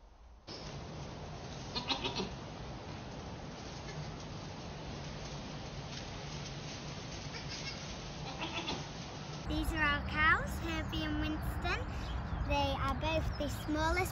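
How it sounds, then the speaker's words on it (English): A goat on a farm bleats several times in the second half, loud and close and in quavering wavering calls. A faint outdoor hiss runs underneath, with a couple of brief earlier sounds. "And I've put a little video in here for you now of Hope, and she's my favourite goat there"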